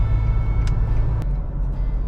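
Engine of a 2023 Nissan Navara Pro 4X pickup with all-terrain tires drones steadily from inside the cab while driving, a low continuous rumble with road noise and no talk.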